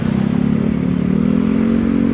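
A small Yamaha Mio motor scooter engine drones steadily nearby, a constant buzzing hum with a faint rattle, holding even for the whole stretch.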